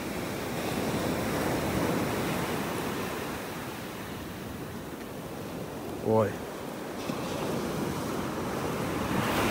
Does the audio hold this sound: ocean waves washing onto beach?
yes